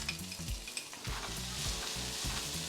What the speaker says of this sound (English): Into this we'll add few chopped onions.